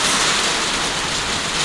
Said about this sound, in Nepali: वर्षा लाग्दैछ